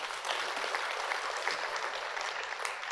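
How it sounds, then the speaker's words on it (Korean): Audience at a special lecture in Seongnam City Hall breaking into steady applause, a dense sustained patter of many hands clapping throughout, no voices over it. "멋지면 박수 부탁합니다"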